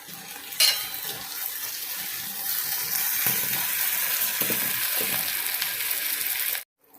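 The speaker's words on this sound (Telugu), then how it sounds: "అవి వేగిన తర్వాత కరివేపాకు, పచ్చిమిర్చి, ఉల్లిపాయలు ఇవన్నీ గోల్డ్ కలర్ వచ్చేవరకు వేయించుకోవాలి." Curry leaves, green chillies and onions fry in hot oil for a Telugu gongura dried-shrimp curry, a steady broadband sizzle with a sharp spatter near the start, continuing alone and close until it cuts off near the end.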